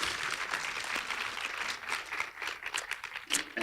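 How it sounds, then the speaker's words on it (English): A gala audience at a game awards event claps continuously, a thick, even roar of applause that holds steady throughout with no voices. "Round of applause for them."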